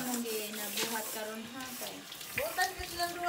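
Tap water runs steadily at a campsite washing spot with hot and cold taps, a continuous rush heard under nearby conversation.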